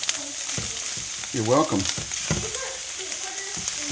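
Scrambled eggs cook in a pan with a constant close sizzle, and a voice briefly speaks over it partway through.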